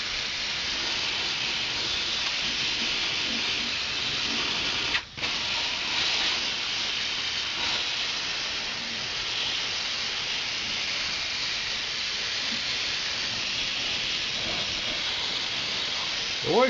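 Fluid Film aerosol hissing steadily as it is sprayed onto truck brake lines, a loud continuous close spray with one brief break partway through.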